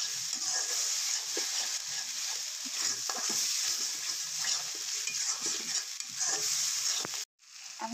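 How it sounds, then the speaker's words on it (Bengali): Masala spice paste for bhuri bhuna fries in oil while a spoon stirs and scrapes the pan, producing a close crackling sizzle with rhythmic scraping that cuts off abruptly near the end. "তাই আমার মশলাটা কষানো হয়ে যাচ্ছে। বেশি করে ভাজতে হবে যাতে কাঁচা গন্ধ না থাকে"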